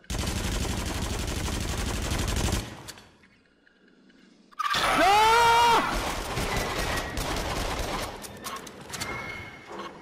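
Rapid machine gun bursts in the VR shooter game Until Dawn: Rush of Blood, loud and dense, break off into a short silence, then resume amid game effects and a rising whoosh.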